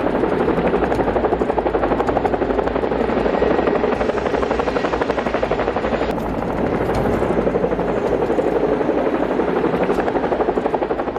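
Loud, steady thumping of a helicopter's rotor blades with a constant engine whine, close and continuous throughout.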